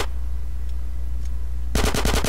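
Rapid automatic gunfire bursts out in GTA San Andreas Definitive Edition after a quiet stretch, a fast run of about half a dozen loud, sharp shots at the end.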